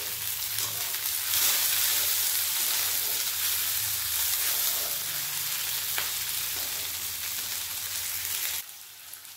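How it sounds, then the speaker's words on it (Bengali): Chopped onion, ginger, garlic and green chilli frying in hot oil for egg tadka dal, a steady close hiss and sizzle with faint stirring, cutting off abruptly near the end. "পেঁয়াজ আদা রসুন লঙ্কা ভালোভাবে ভাজা হয়ে গেছে"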